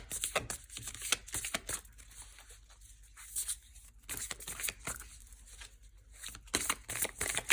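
Tarot cards are shuffled by hand in quick repeated riffles and soft slaps, the papery bursts arriving in uneven clusters, close and fairly quiet with no talking.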